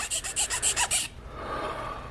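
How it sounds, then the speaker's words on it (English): A metal file rasps across the blade of a homemade knife in about eight quick, even back-and-forth strokes, close and distinct, then stops, leaving a soft room hiss. "we're just going to file it down."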